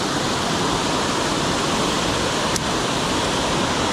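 A waterfall on Walnut Creek, an Indiana smallmouth stream, roars as a steady, loud broadband rush of falling water throughout, with one brief faint click partway through.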